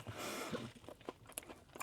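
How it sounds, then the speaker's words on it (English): Close, crunchy chewing of an old-school sugar cookie topped with sprinkles, with several irregular bites and crunches over a couple of seconds and no talking. "trying to chew here"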